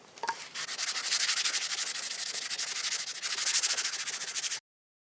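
Sandpaper scrubs a Flyboard Razor fin in fast, even strokes, a close, loud rasping hiss that runs steadily for several seconds before stopping abruptly.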